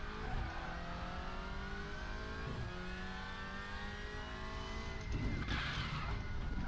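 A WTCR 2019 VW Golf race car in a sim racing game brakes into a left-hand corner at Ningbo, its engine drone stepping down through the revs, with a brief scrub of tyre noise near the end.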